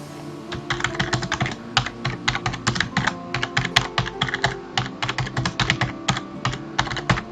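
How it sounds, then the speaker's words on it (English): Steady typing on a computer keyboard, a rapid run of close, crisp key clicks with brief pauses between words, no voices. "Our title, you have to fill the Civil Engineering Handbook. I will type it manually."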